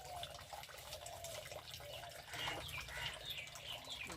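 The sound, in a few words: washing fish heads in water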